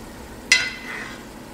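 A sudden hiss as butter hits hot bacon grease in a cast iron pan, a sharp sizzle burst that quickly settles into a softer, steady frying crackle, close and without talk.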